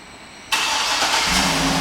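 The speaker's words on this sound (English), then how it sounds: "and the car starts right up" A 2009 GMC Yukon Denali AWD engine fires up by remote start, a sudden loud catch after quiet, then settling into a close steady idle.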